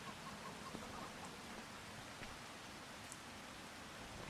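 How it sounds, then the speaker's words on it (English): Steady rain falls in Farming Simulator 25, a soft continuous wash of raindrops on surfaces at low level, alone without talk. "Oh, great. It's raining."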